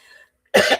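A single sharp cough bursts out close by after a short quiet moment, with a faint voice murmuring just before it.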